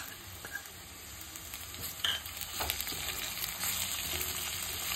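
Onion with crushed ginger and garlic sautéing in a pan for egg curry, a steady close sizzle with occasional sharper crackles and stirring scrapes, no talking.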